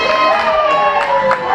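At a wrestling event, a crowd howls back at a wrestler with a sustained, rising group howl over general arena noise, close and loud for a second and a half.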